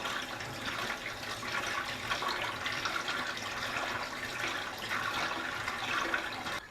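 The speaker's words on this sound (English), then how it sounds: "you want to rinse it from the inside out to flush all of the dirt in the outwards direction" Running water splashes and gurgles steadily as a car's cone or panel air filter is rinsed from the inside out under a cool flow, close and continuous with no talking.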